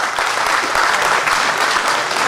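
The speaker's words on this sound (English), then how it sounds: "Please give them a round of applause." A business quiz audience applauds steadily for a finishing corporate team, a dense wash of claps filling the whole stretch at close range with no voices on top.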